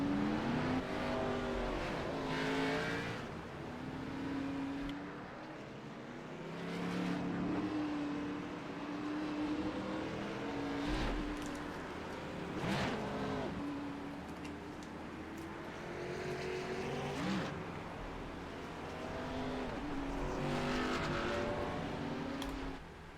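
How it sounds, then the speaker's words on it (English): Xfinity stock cars at Michigan roll off pit road and weave to warm their tires, a steady engine drone that swells and fades as the field passes, with no one speaking. "All the cars warming up the tires."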